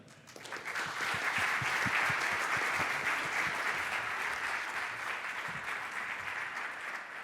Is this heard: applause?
yes